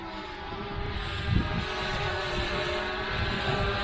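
A Hubsan Ace Pro drone hovers while searching for its landing pad, giving a steady airborne whine and hum mixed with outdoor wind noise, continuous and moderately loud.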